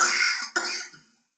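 A patient with an artificial urinary sphincter gives two quick coughs in close succession, close and fairly loud, the second slightly shorter and trailing off into silence.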